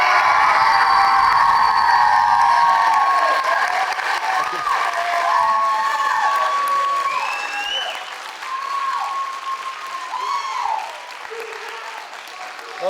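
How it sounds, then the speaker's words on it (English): A big round of applause at a high school band and choir event: a crowd claps and cheers with whoops, while a voice speaks over it and the clapping gradually thins out. "big round of applause for taking that."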